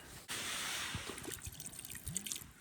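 Water trickles and drips while being added to flour dough during campfire cooking at a winter bushcraft shelter, a steady close pour with small splashes and a few drips, no talking.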